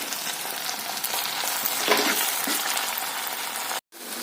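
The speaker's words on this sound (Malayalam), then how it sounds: "തക്കാളിയുടെ പേസ്റ്റ് കൂടെ ചേർത്ത് കൊടുത്ത് പച്ചമണം മാറുന്നിടം വരെ നന്നായിട്ട് ഇളക്കി കൊടുക്കാം" Tomato paste is stirred with fried onions in a hot pan for an okra masala, giving a steady, close sizzle and frying hiss with soft stirring scrapes, the sound cutting out briefly near the end.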